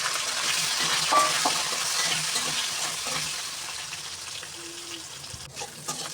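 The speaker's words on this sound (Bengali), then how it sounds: "এখন বেগুনগুলো ভেজে নেব।" Eggplant pieces frying in oil for a fish curry with potato, a steady crackling sizzle with spatula stirring, moderately loud and fading slightly toward the end, with no voices.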